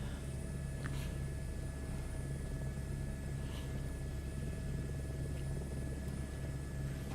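Steady rotor and turbine drone of an H120 helicopter in Microsoft Flight Simulator 2024, a continuous even hum with no talk over it.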